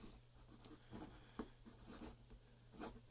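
A fountain pen with a flex nib scratches across paper in short, soft strokes, close and quiet over a low steady hum, with no voices.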